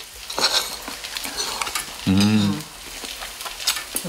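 Shrimp stir-frying in a pan in a home kitchen, with soft sizzling and scraping stirs throughout and a brief louder clatter midway.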